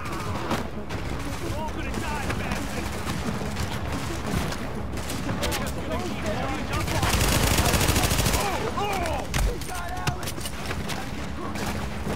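Gunfire in the video game Tom Clancy's The Division, with dense, continuous rapid shots and bursts layered with game effects, loud and close throughout, peaking in a heavy volley near the end.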